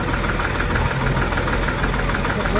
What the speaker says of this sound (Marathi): आता चालू करून ठेवलेलं आहे त्यांनी ट्रॅक्टर